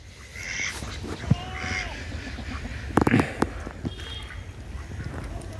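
Ducks at a village pond bank, fed corn and rice, give a few scattered quacks and calls amid outdoor ambience, with a louder cluster of calls midway.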